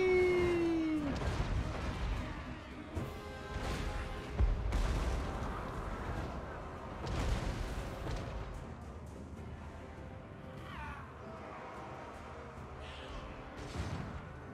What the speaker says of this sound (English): Your catapults are funny because look at what they shoot